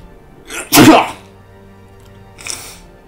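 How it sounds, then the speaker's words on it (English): A person sneezes once, loudly and close, a sharp burst followed by a fainter exhaled vocal sound a moment later. "I'm going to sneeze."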